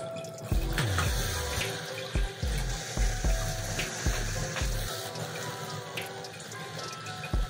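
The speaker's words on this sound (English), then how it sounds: "I'm gonna let you see the fog that comes out when I combine the dry ice with the water." Dry ice bubbles vigorously in water as it releases fog, a continuous close churning gurgle with repeated sloshing bursts and no voices.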